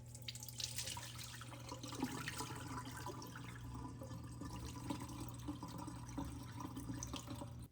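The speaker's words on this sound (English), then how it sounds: "Add 2 cups of rice into the rice cooker and rinse with cold water until the water is clear." Cold water running steadily into a rice cooker pot as rice is rinsed, a continuous close splashing gush with a low hum underneath and no voices.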